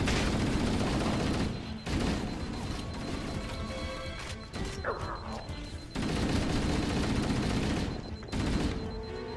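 Gunfire and plasma weapons from the video game Halo: Combat Evolved crackle in dense, chaotic bursts with crashes and impacts, broken by short lulls, with no talk over it.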